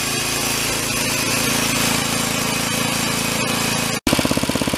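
A small garden-tilling engine runs steadily after warming up, a loud continuous buzzing drone that briefly cuts out, then resumes with a lower, pulsing idle.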